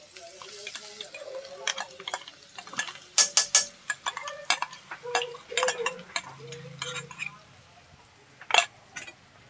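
Garlic-ginger paste sizzling in oil in a pan as a spoon scrapes and stirs it, with irregular clinks and scrapes over a soft frying hiss, close by and fairly quiet.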